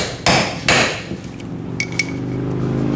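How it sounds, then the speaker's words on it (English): A hammer strikes a socket to drive out a ring gear during a Chrysler 9.25 axle rebuild, two hard, loud metallic blows followed by lighter ringing taps, close by with no talk. "get your socket on there and start hammering away"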